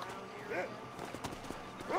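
Horse hooves clip-clopping in the Red Dead Redemption video game, a short run of moderate hoofbeats with a brief whinny-like sound and someone talking over them.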